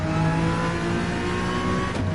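Race car engine in Gran Turismo 7 screaming at high, steady revs near the limiter, a loud sustained droning whine that holds for about two seconds, with no voices.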